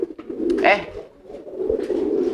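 A domestic pigeon kept for racing gives soft, throaty coos, close and fairly loud, with a brief rustle in between.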